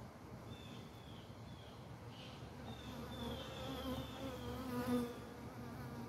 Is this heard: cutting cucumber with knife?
no